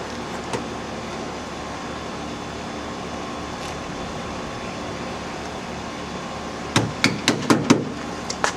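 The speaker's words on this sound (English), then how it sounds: "just take your hammer and tap it in" Several sharp metallic hammer taps in a quick series near the end, driving a pin into a Bushwhacker Pocket Style fender flare, following a long stretch of steady low background hum.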